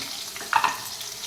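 Masala sizzles in a pan for a mutton curry, a soft steady frying hiss with one brief louder spurt in the middle.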